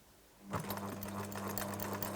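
A sewing machine runs a steady, fast zigzag stitch across a knitted cardigan, the motor's hum starting abruptly after a short quiet moment and continuing evenly and close up.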